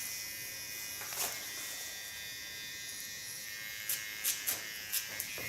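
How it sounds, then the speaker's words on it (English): A fine hair clipper buzzes at a steady low level close by during a haircut, with a few brief brighter scraping touches near the end and no speech. "Take my fine clipper."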